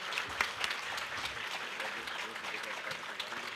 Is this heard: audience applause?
yes